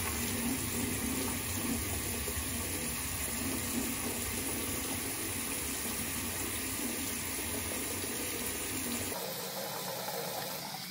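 Tap water runs steadily into a sink while it warms up, a continuous rushing gush that stays loud and even before dropping off sharply near the end.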